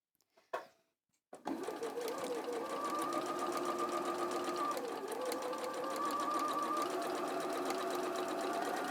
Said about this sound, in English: So you're sewing a 1/4 inch away from the line this time.